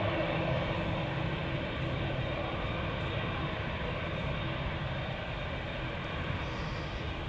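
An airliner takes off from Schiphol's Polderbaan runway, its engines producing a steady, loud, broad roar that holds throughout with no break or voices.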